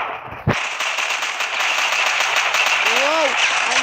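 Rapid gunfire in the mobile shooter FRAG Pro Shooter, a sharp initial shot followed by a dense, continuous crackle of weapon fire, with a voice speaking over it.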